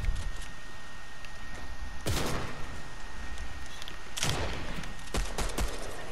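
Pistol shots in a competitive shooter game: a few sharp loud cracks stand out over a steady bed of game noise, with a couple of bursts near the middle and a cluster of quicker reports toward the end.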